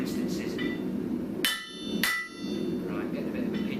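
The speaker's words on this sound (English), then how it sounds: "You hammer it back, you make the bend worse." A ball peen hammer striking bent metal to knock it back straight, two sharp ringing metallic blows about half a second apart, loud and close over a low steady background hum.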